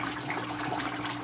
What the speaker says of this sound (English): There's actually draining right there to the extremely aggressive bubbles.